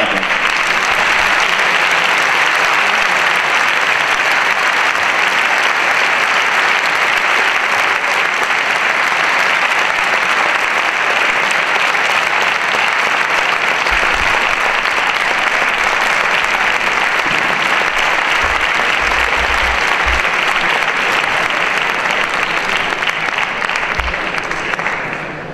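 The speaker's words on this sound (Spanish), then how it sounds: "pido un fuerte aplauso" Sustained, loud audience applause fills a hall at a flamenco singing contest, a dense steady clapping from a large crowd for the finalists, continuing without a break for about twenty-five seconds and tapering only at the very end.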